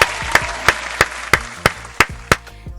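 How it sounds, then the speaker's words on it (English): One person claps hands eight times in a slow, even rhythm, each clap sharp, loud and close with a short ring after it. "I'll even give you some real claps."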